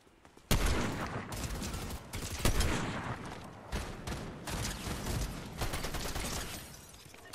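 Fortnite battle royale gunfire cracks out in sharp bursts, with a loud shot, then repeated volleys and scattered single reports at mid distance, no voices.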